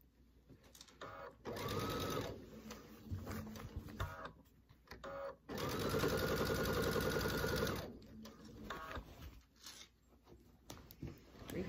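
A sewing machine stitches scalloped quilt binding in close, loud bursts of rapid mechanical whirring, stopping and restarting several times with short pauses for repositioning.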